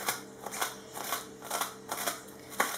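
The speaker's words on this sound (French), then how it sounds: "je vais couper juste mon persil coriandre" Fresh parsley and coriander are cut with a series of quick crisp snipping strokes in an irregular rhythm, close and fairly quiet, with no talking.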